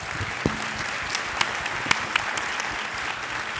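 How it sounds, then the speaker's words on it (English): A conference audience at an aviation event applauds a panel with a steady, moderately loud spread of clapping, a few sharper individual claps standing out over the crowd. "Let's have a round of applause for our panel."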